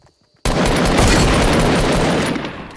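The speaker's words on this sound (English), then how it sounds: "Who's shooting at us?" A sudden loud burst of sustained rapid automatic gunfire in a shooter game, beginning after a brief near-silence and roaring continuously for about two seconds before slightly tapering off.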